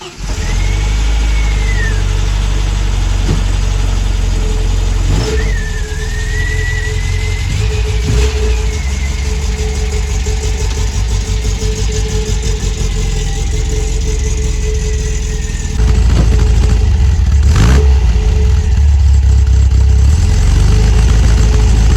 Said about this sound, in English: Let's get the car out of the garage and take it for a spin.